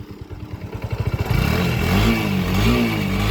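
Kawasaki Rouser NS150 motorcycle, just fitted with a new gasket, cranks with a rapid chugging pulse, then catches and settles into a loud, close, steady idle with a slight wavering rev.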